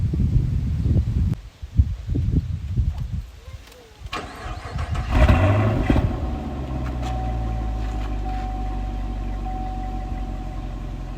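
Stock exhaust on a 2015 Chevrolet Camaro, which catches and settles into a steady, loud idle rumble after some early handling noise and brief talk.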